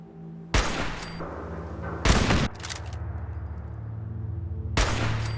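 Sniper gunfire against raiders in the video game Fallout 4 in survival mode, three sharp loud shots spaced a couple of seconds apart, each followed by a lingering echo over a low ambient drone.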